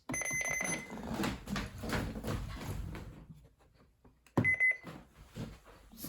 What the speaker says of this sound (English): Also, recognize the button beeps.